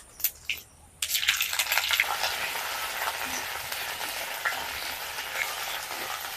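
Ginger and green chili paste hits hot oil for a potato curry, beginning with a couple of faint pops before a loud, steady sizzle takes over and keeps crackling evenly to the end, with no voices.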